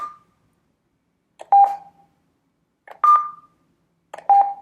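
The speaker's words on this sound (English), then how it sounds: "And now it makes a little beeping noise." Short electronic beeps from the small speaker of a Google AIY Voice Kit v1, four tones spaced about a second or more apart, each a clear steady pitch with a faint click before it, close and fairly loud in a quiet room.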